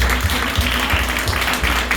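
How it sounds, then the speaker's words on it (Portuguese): A church congregation applauds during the offering time, a continuous dense clapping with a low hum underneath and faint voices. "Vamos aplaudir o Senhor também."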